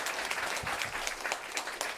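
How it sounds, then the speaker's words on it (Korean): A church congregation at a Sunday morning worship service gives a short burst of quiet applause, with soft scattered claps carrying through from start to finish. "다시 한번 격려의 박수 보내드립니다"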